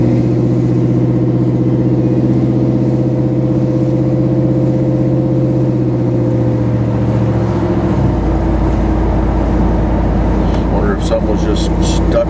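A GMC Jimmy truck engine runs at a steady idle, a droning low hum that shifts to a rougher, deeper rumble partway through, close by, with people talking over it.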